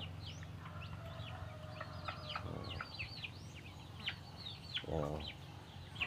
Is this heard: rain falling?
no